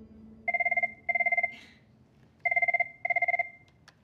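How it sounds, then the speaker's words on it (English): An office telephone rings with two double bursts of trilling electronic bell tones, separated by a brief pause, clear and close in a quiet room. "Oh, we got a phone call."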